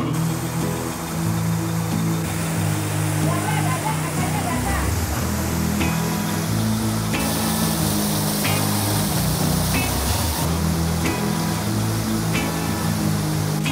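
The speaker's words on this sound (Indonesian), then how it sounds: "Sekarang saatnya kita untuk mandi-mandi, berenang di air terjun." A waterfall in Java roars with a steady, loud wash of falling water while people bathe and swim in the pool below. Splashes and distant voices are mixed into the constant rush.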